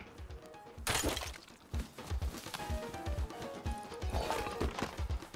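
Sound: horse hooves clip-clop in video game

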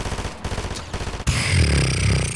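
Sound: SMG gunfire in a Fortnite-style video game

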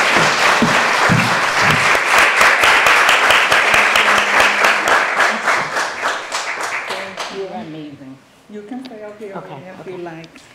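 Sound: audience applause

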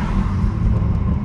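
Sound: Toyota Supra MK5 car driving

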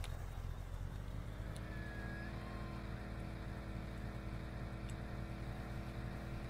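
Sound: truck engine accelerating, turbo not kicking in

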